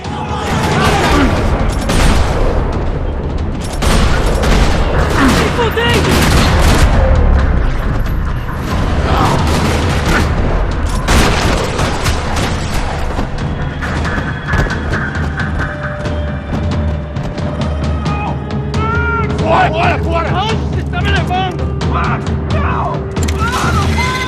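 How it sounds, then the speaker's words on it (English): Rapid bursts of gunfire in the video game Max Payne 3 rattle continuously with booms and mechanical clatter, loud and dense throughout, with a few tonal game sounds layered near the end. "Another parking lot rattling with gunfire."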